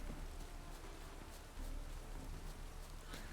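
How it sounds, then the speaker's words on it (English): Steady rain falls in The Witcher 3: Wild Hunt, a continuous soft hiss of drops with faint patters on surfaces, even and moderately quiet, with no voices. "Looks like rain."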